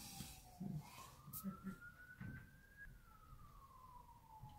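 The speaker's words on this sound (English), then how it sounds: "you hear sirens and everything" A police or emergency vehicle siren passes outside, a single faint wailing tone rising and falling at a distance, heard behind quiet indoor handling noises.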